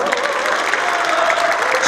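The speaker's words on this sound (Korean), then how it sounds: "한 분 한 분 소개할 때마다 큰 박수 부탁드리겠습니다." An audience claps at a 2023 alumni association president's inauguration ceremony in Icheon. The applause is dense and continuous at an even level throughout the brief burst, with a faint tone in the room behind it.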